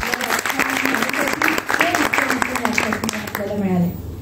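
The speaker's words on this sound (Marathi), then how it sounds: "आपल्या सर्व व्याख्यात्यांसाठी आपण एकदा टाळ्या वाजवूया" Audience applause for lecturers at a Marathi lecture session on Ramayana tellings, a steady broadband clatter of many hands lasting the whole stretch, with a voice speaking over it throughout.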